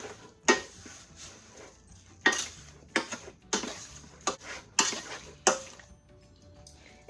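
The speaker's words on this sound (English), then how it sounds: "Give it a quick stir." Strawberries and sugar stirred in a pot for jam, a utensil scraping and clinking against the pot in a handful of sharp, irregular strokes with wet, sticky movement between them, close up and with no talking.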